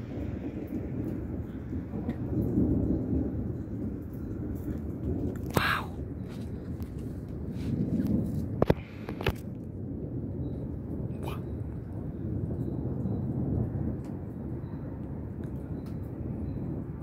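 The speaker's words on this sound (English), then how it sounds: "It's like nonstop thunder and lightning." Deep thunder rumbles almost continuously during a severe thunderstorm in Monroe, Michigan, with rain noise beneath, a couple of sharper cracks and occasional voices.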